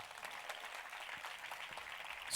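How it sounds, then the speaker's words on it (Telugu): Faint, steady applause from an audience at a church youth meeting in Seethampeta, Eluru, with continuous clapping for the full stretch and no voices over it. "కొట్టు చప్పట్లు గట్టిగా."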